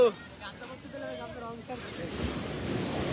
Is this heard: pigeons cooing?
no